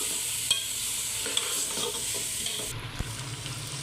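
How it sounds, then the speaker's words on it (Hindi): Mutton korma stir-fried in a pan, a steady hiss of frying with occasional scraping strokes of a spoon and a few light knocks, close and even, no talking. "अच्छे से मिक्स करना है और इसको तकरीबन हमने 6 से 7 मिनट तक फ्राई करना"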